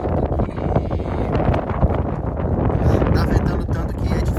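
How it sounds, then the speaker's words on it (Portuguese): Strong Patagonian wind buffets the microphone of someone cycling in Chubut, a constant loud roar and rumble lasting throughout. "ventando tanto que é difícil pedalar com o vento"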